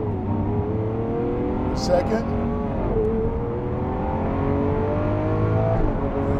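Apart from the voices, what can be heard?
Lamborghini Aventador SV accelerating and shifting gears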